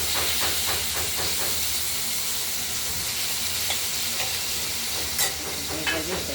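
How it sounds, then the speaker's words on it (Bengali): Chopped tomatoes go into a pan of katla fish curry with potatoes and coriander, bringing a loud, continuous close sizzle and hiss of frying with a few small pops. "এবার কেটে রাখা টমেটোগুলো এর সঙ্গে দিয়ে দেবো"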